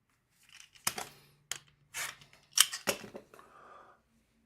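Scissors snip through quilt fabric being cut into 2.5-inch squares, several crisp close cuts spaced unevenly over a few seconds with quiet rustling between them.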